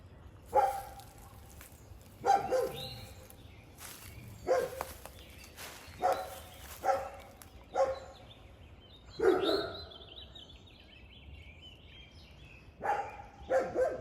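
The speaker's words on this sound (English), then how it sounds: "Sorry about all the dogs barking in the background." Several dogs bark repeatedly at a distance in a spring back yard garden in Marietta, Georgia, sharp barks in irregular bursts every second or two, with birds chirping faintly.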